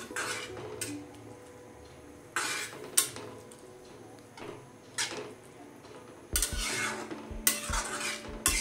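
Carrots being stirred as they cook down in milk for carrot halva made without khoya, with intermittent scraping bursts of a spoon against the pot over a faint simmer.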